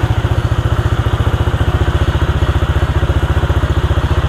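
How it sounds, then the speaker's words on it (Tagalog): A loud, close motorcycle engine being prepared for an RS8 endurance event runs without oil, with a fast, steady, pulsing idle and a rough mechanical clatter throughout. "Buksan natin yung makina ulit natin nang walang langis."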